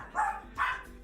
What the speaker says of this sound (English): You know, dogs are always barking when the door opens.